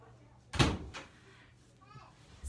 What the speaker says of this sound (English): Can you shut the door?